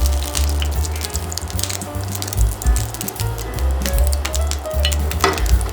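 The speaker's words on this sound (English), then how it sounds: "We're gonna add cooking oil, which is sunflower oil." Sunflower oil sizzles and crackles loudly in a heated pan, a steady close frying hiss with sharp pops throughout and no talk.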